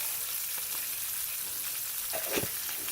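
Green beans sizzle in olive oil in a pan, a continuous close hissing fry with a few brief crackles and pops.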